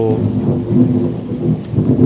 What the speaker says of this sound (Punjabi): ਬੱਦਲ ਗੜਕਦੇ ਹੋਏ ਲਗਾਤਾਰ ਮੀਂਹ